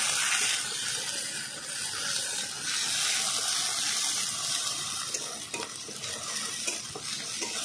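Ginger, cumin, green chili and garlic paste fry in hot oil, sizzling loudly and continuously up close while a utensil stirs and scrapes the pan in irregular strokes.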